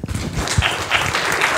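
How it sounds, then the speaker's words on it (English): An audience claps at the IMAGINE 2018 entrepreneurship talk, a brief burst of dense, fairly close hand claps with scattered sharper slaps. "Big round of applause for them"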